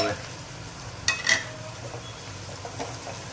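Onion, tomato and garlic chutney fry in a pan at a low, steady sizzle, with a couple of brief utensil clinks from stirring partway through.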